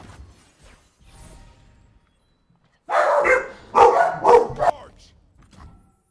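Several dogs burst into a short run of loud, close barks at a car driving past, lasting a couple of seconds, with quiet speech before and after.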